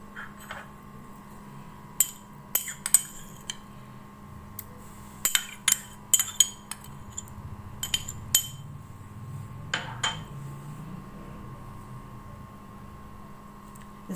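A spoon stirs green coriander chutney into yogurt in a bowl for raita, making scattered light clinks and taps against the dish over a steady low mains hum, with no talking.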